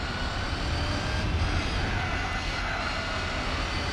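Supercharged car engine in Gran Turismo 4 droning steadily at high revs, a constant dense roar with no breaks, heard alone.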